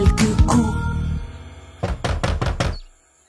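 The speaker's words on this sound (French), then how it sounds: "à la porte du plus jeune vint frapper quelques coups" Knocking on a door in a children's animated song, a few firm, rapid knocks sounding close, heard after music fades out.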